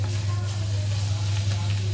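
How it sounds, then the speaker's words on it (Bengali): Chopped bitter gourd (ucche) bhaji stir-fries in a pan with a continuous close sizzle, under soft scraping as it is turned, alongside a steady low hum. "আর একটু নেড়ে চেড়ে ভেজে ভাজিটা নামিয়ে ফেলবো।"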